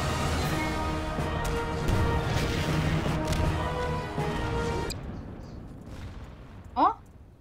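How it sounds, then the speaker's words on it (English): Grenades going off in a zombie video game: a dense, sustained wall of explosive roar and rumble for several seconds, then it cuts out to quiet with a brief voice near the end. "I'm throwing grenades."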